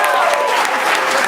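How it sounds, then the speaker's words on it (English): A live audience applauding at a main stage show, dense and loud clapping that carries steadily through the whole moment with no voice over it. "Give him a big round of applause."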